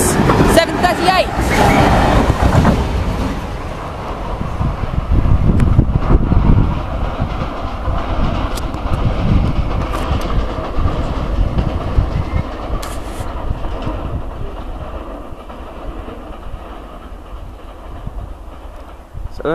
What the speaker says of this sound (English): So that had a mix of empty wagons for the old ballast, new sleepers, maybe track as well